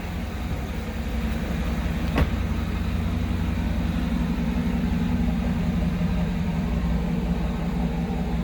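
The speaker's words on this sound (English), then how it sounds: "Stock exhaust on this truck, nothing's been tampered with there that we have been able to see." A 2008 Cadillac Escalade ESV Platinum with a stock, untampered exhaust idles with a steady, low engine drone, close and constant, with one brief sharp click partway through and no talking.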